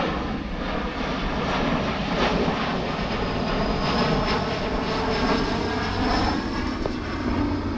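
An airplane passing right overhead near the Omaha airport, heard from a kayak on the Missouri River as a loud, sustained jet roar filling the whole stretch, close and steady with no talk.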